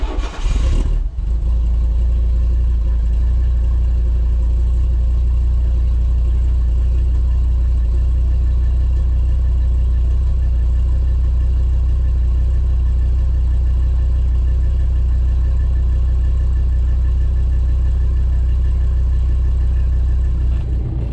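Car engine running steadily with a cold-morning raised idle, a sharp start burst at the opening, then a constant loud mid-range drone as it pulls away onto the road, no talking.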